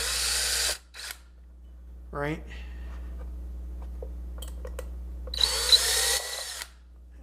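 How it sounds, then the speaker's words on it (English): A power drill marks screw holes through a pedalboard, with a short whirring burst near the start and another toward the end, and a brief voice in between. "So I'm basically going to give myself a little bit of a marker for each one of these holes with the drill"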